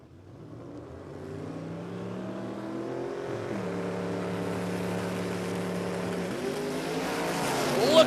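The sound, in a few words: Toyota Hilux drag racing launch at dragway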